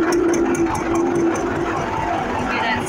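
A tractor's PTO shaft drives an International Cyclo corn planter, giving a steady mechanical running drone with a sustained high squeal held throughout, loud and close, with no talk over it.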